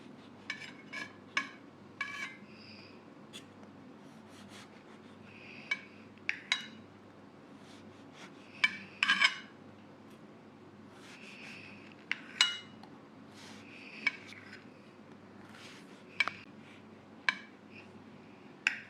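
Utensils clinking and scraping against a cooking pot while a bakery-style tea cake baked without an oven is taken out and cut, sparse metallic taps and knocks at close range in a quiet kitchen.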